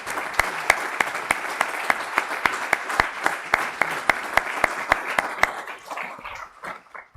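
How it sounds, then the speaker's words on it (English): An audience at a military health services congress gives steady applause, with crisp regular claps standing out over the crowd's clapping before it tapers off and dies away near the end. "Now I would like to request from you, please, a big applause for our colleagues."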